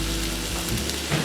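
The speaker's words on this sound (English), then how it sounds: "Now we're going to saute this until the onions are translucent." Onions sauté in a pan for a vegan lentil soup, a brief, steady close-up sizzle and crackle with a faint low hum beneath and no voices.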